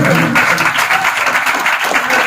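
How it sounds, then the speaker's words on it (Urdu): Audience applause in a church gathering during an Urdu sermon, steady dense clapping at close range throughout, with some voices faintly mixed in. "ذرا زوردار تالیاں تو بجائیے اس بات میں"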